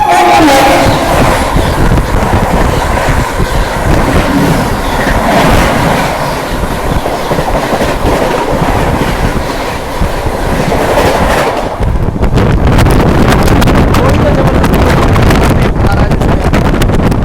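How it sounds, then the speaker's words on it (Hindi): Special express train passing close and loud, with a continuous roar of wheels and wind and rhythmic clickety-clack that intensifies after the first stretch; no talk. "इधर से आ रही है कोई उड़ती हुई"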